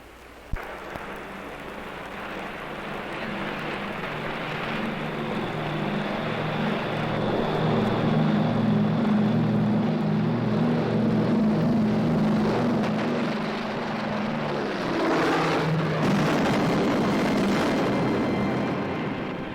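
Propeller airliner engines on a 1950s film soundtrack roar up steadily to full power during takeoff, a loud continuous drone with deep pulsing hum that swells and then shifts pitch near the end, with no talking.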